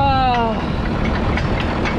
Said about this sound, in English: I'm honestly not sure if this tractor will even pull this wagon.